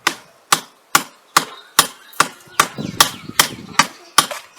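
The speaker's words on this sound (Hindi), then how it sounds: "मैं जब तक ये ठोक रही हूँ" Hammering in a rural village setting: about a dozen sharp, evenly spaced knocks ring out close and loud, with a brief cluttered patch of rustling and handling between strikes midway.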